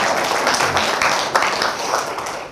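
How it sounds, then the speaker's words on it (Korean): An audience applauding, a steady wash of many hands clapping fairly close, with a faint voice in the mix. "박수 한번 나와야 되는 타임입니다."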